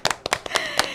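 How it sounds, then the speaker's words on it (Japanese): Scattered hand claps from children in a school audience at an elementary storytelling contest, a handful of separate sharp claps in quick irregular succession, close and brief rather than a full ovation. "もう一度本当にみんなで大きな拍手をしましょう"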